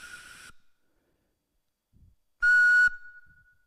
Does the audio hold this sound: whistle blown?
yes